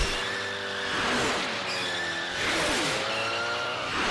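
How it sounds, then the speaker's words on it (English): A race car from the Swamp Oil 500 in a Phineas and Ferb cartoon skids with screeching tire squeals and revving engine sweeps, two loud swooping passes close up. "Phineas becomes fascinated by the Swamp Oil 500 race going on over the backyard fence"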